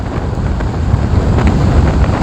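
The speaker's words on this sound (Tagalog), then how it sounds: "Medyo malakas na naman yung hangin" Strong wind buffeting a microphone aboard a boat on a trip to Cataingan, Masbate, a continuous low roaring rush with gusty swells, loud and close, with faint water and engine wash beneath and no talking.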